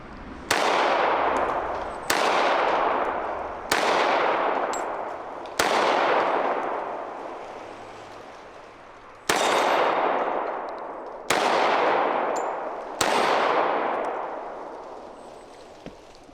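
A Springfield TRP 1911 tactical response pistol fires seven loud, sharp shots with irregular spacing of one to four seconds, each leaving a ringing decay.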